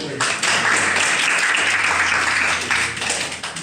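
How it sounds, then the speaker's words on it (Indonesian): A crowd applauds loudly and steadily at a campus talk show about married women continuing university studies, with a faint murmur of voices under the clapping. "tepuk tangan dulu lagi"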